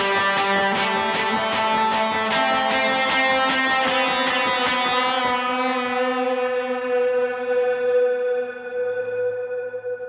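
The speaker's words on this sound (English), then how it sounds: "I kick on my 3rd gain stage overdrive and I do the same lead line I do in the bridge" An overdriven electric guitar plays a lead line with rapid, even down strums, drenched in echo and reverb, then lets the last notes ring out and gradually fade.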